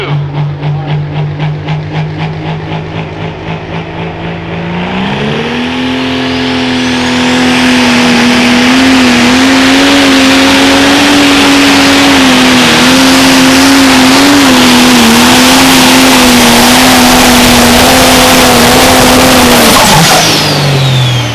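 A pro stock pulling tractor's engine idles with a rapid rumble, then roars and holds at full throttle for a long pull at a Wisconsin fall nationals event, loud and close before cutting off abruptly near the end.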